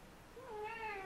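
A house cat meows once, a rising then sustained drawn-out cry, close and clear in a quiet indoor room with no talking.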